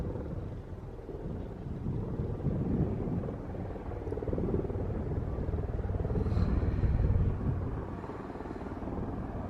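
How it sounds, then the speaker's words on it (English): A helicopter flies far off on a misty hillside, heard as a steady low rumbling drone that swells slightly midway and stays faint and distant, with no talk. "I can hear a helicopter."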